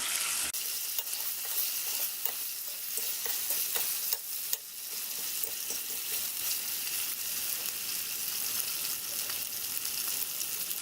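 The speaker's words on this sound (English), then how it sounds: "when it sounds like it's frying, that's kind of when you know it's given up what it's got" Turkey drippings fry in a pan while gravy is being made, a steady close crackling sizzle with scattered pops and occasional stirring scrapes, no voices.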